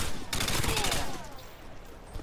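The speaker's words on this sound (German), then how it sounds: "Ja, ich habe schon die Schüsse gehört." A short burst of rapid gunfire from the video game Modern Warfare 2, loud sharp reports in quick succession over about a second, then a fading tail.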